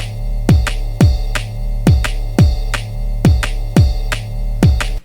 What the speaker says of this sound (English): And it all started from a ride loop that sounds like this.